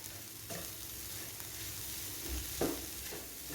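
Curry leaves and coriander sauté in a pan in a low, steady sizzle with a couple of soft stirring scrapes, close and quiet, no voices.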